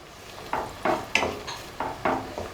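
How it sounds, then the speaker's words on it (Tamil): Coconut milk being stirred into vatha kuzhambu in a pot, with about six soft scraping strokes of a utensil at an even rhythm over a faint bubbling background. "திக்கான தேங்காய் பால் 1/4 கப் மட்டும் சேர்த்துட்டு நல்லா மிக்ஸ் பண்ணி விட்டுறலாம்."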